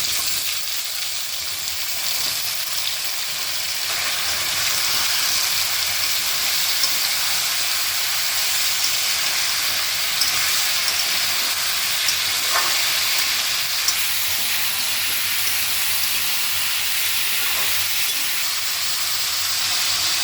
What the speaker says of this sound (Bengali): এগুলো ভালো করে ভেজে নিয়ে এর মধ্যে জলপাইগুলো ছেড়ে দিলাম।